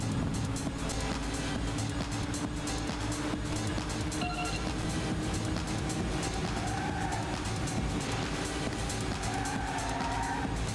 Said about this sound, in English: You can really hear the exhaust note of the car screaming through the night air.